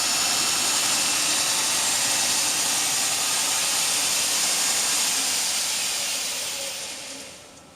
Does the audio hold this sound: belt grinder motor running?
yes